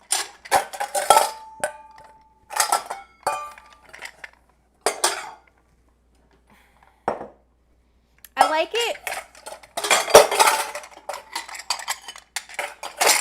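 A metal utensil clatters and scrapes against a bowl while peanut butter and other sandwich filling are mixed, coming in loud irregular bursts separated by pauses, with a person speaking briefly among the clanks.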